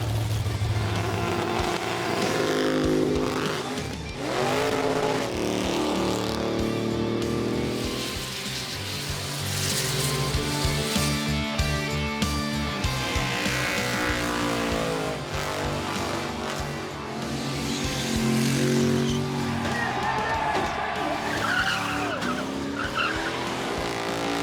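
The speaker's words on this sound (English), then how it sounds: "There's a lot of just purpose-built burnout cars." Purpose-built burnout cars roar at a burnout event, with engines revving hard and bouncing off the limiter over continuous tire squeal. The sound stays loud and dense throughout with no pause.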